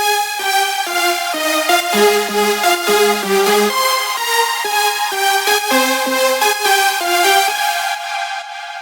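A bright synth lead runs through a fast melodic line over sustained chords, washed in reverb that lingers and trails off at the end.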